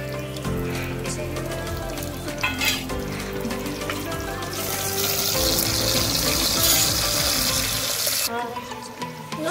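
Cumin and mustard seeds sizzling in hot oil while sambar is cooked, a steady bright crackle and hiss that swells in the middle, with some clatter.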